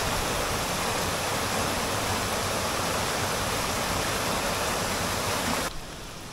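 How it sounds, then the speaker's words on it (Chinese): Water streams down a Hallasan hiking trail on Jeju Island, a loud, steady, close rushing that fills the clip and softens abruptly near the end. "登山路也成了小溪。"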